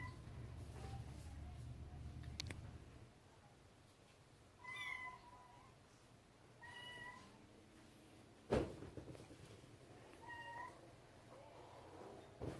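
Cats meowing in an animal shelter, several separate mid-pitched meows spaced across the stretch, fairly close, over a quiet background with a low rumble at first and a sharp knock or thump midway.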